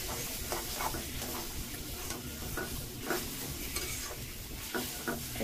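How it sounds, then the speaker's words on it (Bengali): Mashed raw banana frying in a pan over a medium flame, with a soft steady sizzle under repeated scraping and clacking strokes of a spoon stirring and turning the mash, close and fairly quiet. "চুলার আঁচটা মিডিয়াম করে উল্টিয়ে পাল্টিয়ে নেড়ে চেড়ে আস্তে আস্তে ভেজে নেব"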